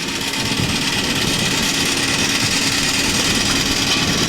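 A miniature steam traction engine, a 2-inch-to-the-foot scale model of a barrel traction engine, runs continuously with a steady mechanical hum and hiss, even in loudness throughout, fairly close, at a traction engine rally in Langport, Somerset.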